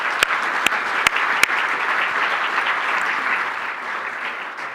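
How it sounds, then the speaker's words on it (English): An audience applauds at a university distinguished lecture on youth sports. The sustained, even applause fills the hall, with a few sharp, close handclaps standing out near the start. "So how about a round of applause for all those folks?"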